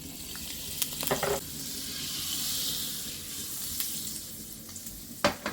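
Vegetable oil and a knob of butter heating in a well-warmed frying pan, a steady soft sizzle and hiss with a few brief clinks and stirring knocks near the start and end.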